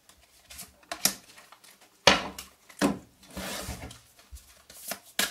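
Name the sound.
tarot cards being shuffled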